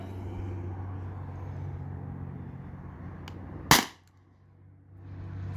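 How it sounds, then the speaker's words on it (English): A single sharp crack of an air gun firing at a can sounds near the end, loud and close, over a low steady background hum that drops away briefly after the shot. "So I'm going to shoot this side again."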